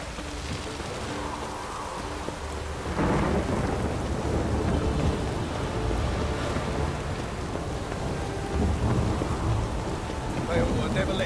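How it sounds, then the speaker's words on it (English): A video game thunderstorm with steady heavy rain hissing throughout and a deep roll of thunder breaking in about three seconds in, loud and rumbling under the downpour. "The storm, damn it."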